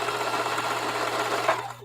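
Sewing machine stitching denim scraps, a steady rapid mechanical whir close by with no pause.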